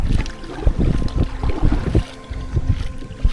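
Choppy waves slapping a solo kayak on the Suwannee River while a headwind buffets the microphone, a loud rumbling, irregular wash of water and wind with no speech.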